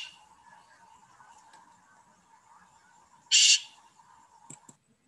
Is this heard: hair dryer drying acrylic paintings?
no